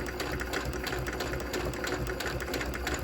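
A sewing machine stitches curved quilt fabric pieces, running at a steady, even clatter of close needle strokes heard alone for a few seconds.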